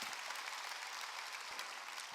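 A church congregation claps during a Korean Sunday worship service, a steady, even wash of applause from many hands throughout, with no voices standing out.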